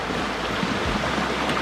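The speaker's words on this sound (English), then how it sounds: "just I love hear the sound of the river." A flowing river stream rushes steadily and close by, a dense, even wash of water noise with no pauses and no voices.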